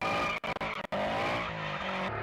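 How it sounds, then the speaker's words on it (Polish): A car engine recording revs and whines with rising and falling pitch, brief dropouts early on, then a sustained loud drone close up. "z przyjemnością puszczę wam dźwięk tego silnika"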